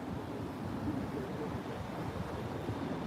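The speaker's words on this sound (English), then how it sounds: "sorry, it's windy" Gusty wind buffeting a microphone on a Chicago street outside a courthouse, a steady loud low rumble and rush with no clear pauses.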